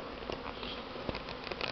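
Large gray local honey bees stream out through the upper and lower hive entrances on a spring cleansing flight, a faint, continuous buzzing of many wings with occasional louder passes close by.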